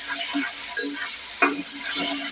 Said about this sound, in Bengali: কলিজাগুলো ভালো করে ভাজি করে নিতেছি যাতে ভাজির মধ্যে সিদ্ধ হয়ে যায়।